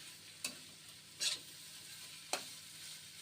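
Onion frying in a pan for a mashed onion-garlic dish, a faint, soft sizzle broken by a few brief scraping stirs.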